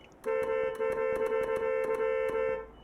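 A steady, loud truck horn from Euro Truck Simulator 2 blares continuously for a couple of seconds with rhythmic clicking underneath, then cuts off.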